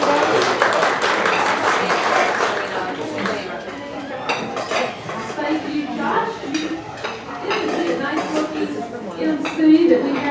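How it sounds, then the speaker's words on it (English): Scattered applause from a seated audience at a Christian chamber of commerce gathering in Greenville, South Carolina, mixed with clinking dishes and cutlery and murmured talk, moderately loud and uneven. "So round of applause and Angela."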